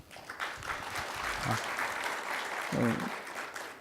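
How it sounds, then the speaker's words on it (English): Applause from the audience at the opening ceremony of an international forum in Beijing, fairly faint and steady throughout, with a brief voice over the clapping near the end. "Please give Dr. Guo a warm round of applause."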